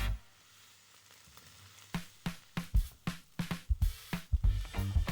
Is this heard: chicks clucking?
no